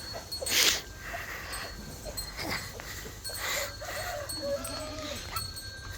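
Several goats bleat intermittently at moderate distance, short wavering cries spread across a quiet goat-shed background on a farm.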